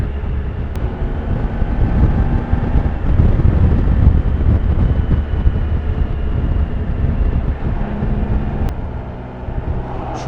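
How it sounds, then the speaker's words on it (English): Steady, loud wind blast roaring over a motorcycle rider with the windscreen lowered all the way, broadband rushing noise mixed with engine drone throughout, no talking. "I've just lowered it all the way down for increased wind blast, so get some airflow"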